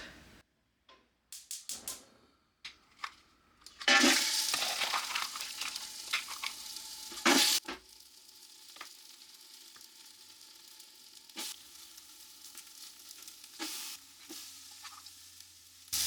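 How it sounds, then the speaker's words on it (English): Onions, carrots and celery hit hot olive oil in a stock pot, bursts of sizzling and frying with stirring clatter, loud at first and then settling into a quieter hiss with occasional utensil taps. "we're going to saute the onions, carrots, and the celery for the soup"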